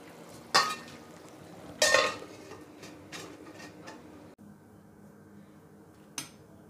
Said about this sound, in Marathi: आपण आता बारीक गॅस करून ह्याच्यावर झाकण ठेवणार आहोत।